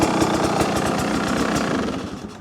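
A 2026 Beta 300 Race Edition two-stroke dirt bike engine idles steadily up close, a continuous rough, pulsing run at even loudness that fades slightly at the end.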